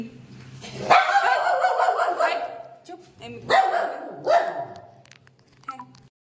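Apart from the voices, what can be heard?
dog barking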